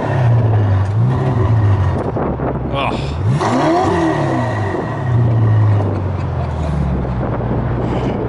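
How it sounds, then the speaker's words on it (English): A car engine revs hard several times, the pitch sweeping up and down loudly and close, with a brief exclamation from a person during it. "Give it a rev"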